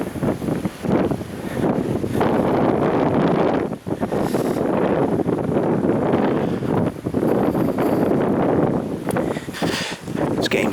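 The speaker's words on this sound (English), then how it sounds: "It's getting very windy" Strong wind blasting across the steep earthwork banks of Deddington Castle, a loud, constant buffeting roar hitting the microphone with only brief lulls and no talking.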